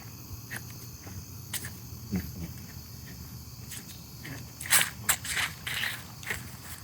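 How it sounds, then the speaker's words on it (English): Dry leaves crunch underfoot in a few irregular steps, louder toward the end, over a faint background of insects chirping. "Hear the leaves crunching underneath my feet."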